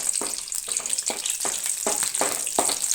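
Garlic and green chillies frying in hot oil in a home kitchen, a bright steady sizzle broken by repeated scraping stirs at a regular rhythm, close and alone.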